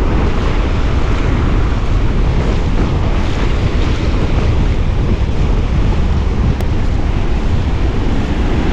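A strong northeast monsoon wind at Casapsapan beach roars against the microphone over crashing surf, making a loud, continuous rumble that covers the whole clip.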